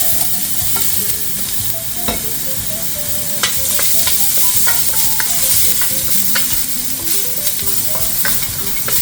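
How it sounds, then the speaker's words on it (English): Ginger stir-frying in hot oil in a wok crackles loudly and continuously, with repeated scraping and clinking of a spatula against the pan. "So we're gonna first add some ginger in. Okay, stir the ginger."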